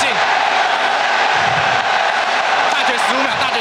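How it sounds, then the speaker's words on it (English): A packed esports arena crowd cheers and roars during a League of Legends Worlds group stage match, a dense, continuous wash of noise with caster commentary running over it. "This crowd is lighting up and ready for AHQ to take a victory"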